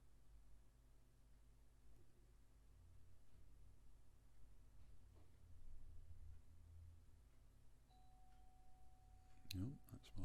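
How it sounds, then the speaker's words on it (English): A doorbell sounds near the end, a brief chime cutting in over a low steady background hum and faint talk during an online card-game session. "No, that's my doorbell, excuse me."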